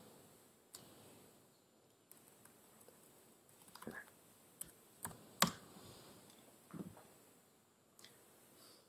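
Command typed on a computer keyboard during a programming talk demo: scattered, faint key clicks at an irregular pace with quiet gaps between them.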